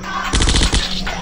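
Assault rifle firing in the zombie video game Zombocalypse, a rapid burst of about ten loud, close automatic shots lasting under a second, then quiet game ambience.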